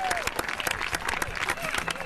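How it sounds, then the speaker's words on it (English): Crowd clapping for the winner of a horse-riding competition, a scattered burst of applause at moderate distance with a voice talking over it. "And now a great big round of applause for the winner of the 2000"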